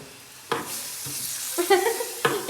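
Hot oil hits a pan with sharp sizzling bursts, three distinct onsets that crackle and fade, close and fairly loud with no talk.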